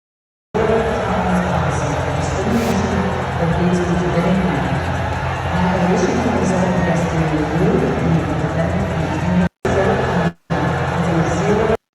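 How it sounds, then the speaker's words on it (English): At a WNBA game between the Las Vegas Aces and the Indiana Fever, an arena crowd boos commissioner Cathy Engelbert. A loud, dense, sustained roar fills the space, broken by a couple of abrupt silent cutouts near the end. "They are booing her."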